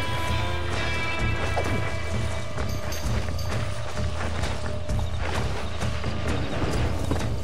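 Horse hooves clattering at a gallop in the Red Dead Redemption video game, a steady busy rhythm of hoofbeats over a dense, constant layer of game ambience and music, with occasional sharper knocks.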